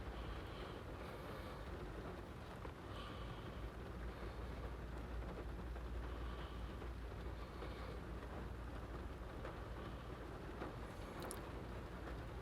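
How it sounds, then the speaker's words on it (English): Rain drumming steadily on a car, heard from inside the vehicle during a tropical storm in California, a continuous dense patter with rumbling low noise and no talking. "that's the rain coming down in the car"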